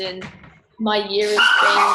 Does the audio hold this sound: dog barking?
yes